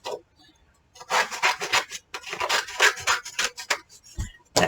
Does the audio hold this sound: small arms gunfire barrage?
no